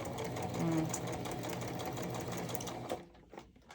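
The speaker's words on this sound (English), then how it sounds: "sewing machine" A sewing machine set to stitch length 2 stitches steadily through paper with a fast mechanical whir, running continuously for about three seconds before stopping into near quiet.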